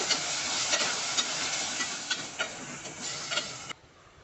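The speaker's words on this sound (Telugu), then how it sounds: "ఒక పెద్ద టమోటా తీసుకొని ఈ విధంగా పేస్ట్ లాగా చేసుకొని యాడ్ చేసుకోవాలి ఇందులోనే లవంగాలు చెక్క కూడా యాడ్ చేశానండి ఇదంతా చక్కగా ఫ్రై చేసుకోవాలి" Tomato paste with cloves and cinnamon frying in a pan for mutton curry gives a steady, close sizzle broken by soft stirring clicks, then drops away abruptly near the end.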